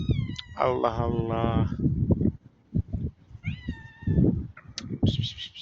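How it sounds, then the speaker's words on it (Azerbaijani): A black cat meows several times, close by, in short drawn-out cries while someone talks to it throughout. "Bu pişik qara pişik"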